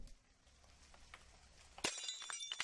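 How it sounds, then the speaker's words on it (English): Glass shatters suddenly in a kitchen in the video game Fallstreak, a sharp crash followed by a lingering tinkle of scattered shards after a quiet, dim stretch. "The sound of breaking glass."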